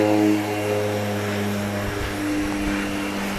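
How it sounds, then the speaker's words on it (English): A propeller plane taking off at the Grand Cayman airport, a loud steady droning engine roar with a sustained hum, close by and filling the whole moment with no voices. "we had a plane taking off here,"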